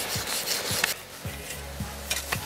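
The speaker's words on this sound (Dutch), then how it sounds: "het is heel fijn dat hij wat makkelijk zaagt door deze sneeuwmassa" An ice saw cutting through a mass of snow outdoors in the Norwegian Arctic wilderness, giving soft rhythmic rasping strokes about every half second, close by and fairly quiet, with no talking.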